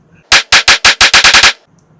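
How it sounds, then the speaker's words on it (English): Nine loud, sharp pistol shots from a .380 handgun firing FMJ rounds, starting slow then quickening into a rapid close string, with quiet background before and after. "So why don't I start running a bit more of the FMJs that I have, and we'll just keep shooting."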